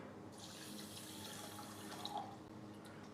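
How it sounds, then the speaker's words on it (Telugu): Drinking water pours into a pot of rice before the grains are washed, a soft steady splashing trickle heard close up in a quiet kitchen. "ఇదిగో మంచినీళ్ళు నేను ఇందులో పోస్తున్నాను"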